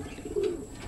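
A game fowl gives a single brief, soft coo, close by and quiet.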